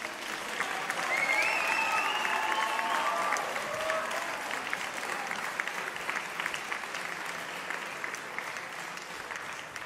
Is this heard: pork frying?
no